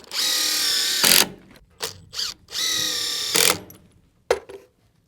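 Power driver sinking GRK fastener screws into framing while building a large garage, two long high-pitched whirring runs ending in ratcheting clunks, followed by shorter bursts and knocks, close and loud.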